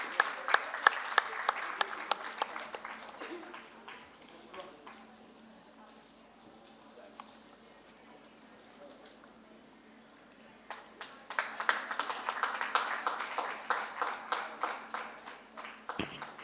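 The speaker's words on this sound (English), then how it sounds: "Can we do the clapping more louder?" Many people clap at a menstrual hygiene awards ceremony in India. Loud applause fades to a quiet lull in the middle, then swells back strongly toward the end.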